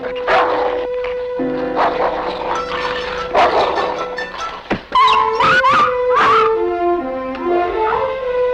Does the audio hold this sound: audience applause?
no